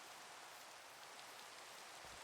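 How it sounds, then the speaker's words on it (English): Steady rain falls in the Minecraft video game, a soft, even hiss of dense drops continuing without change, faint and with no voices. "I don't think we've really appreciated the rain a lot in this series yet."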